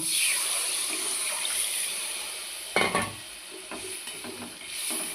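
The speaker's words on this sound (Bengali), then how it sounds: "মশলাটা কষা হয়ে গেছে এবার জল দিয়ে দেব" Water is poured into a pan of spice paste being fried for a potato and rita fish curry, made from ground garlic, green chilli, salt, turmeric and cumin, giving a steady hiss and sizzle with a brief louder splash and bubbling burst midway.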